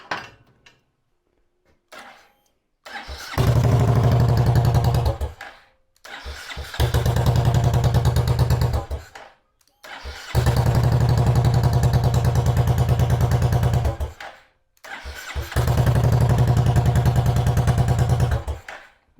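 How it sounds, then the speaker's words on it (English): Royal Enfield Meteor 350 motorcycle engine, under test from a battery pack, cranks and fires up four times in a row, each start settling into a loud, steady idle for a few seconds before cutting off, with short silent gaps between. "I want to make sure it actually has the power to fire this bike up."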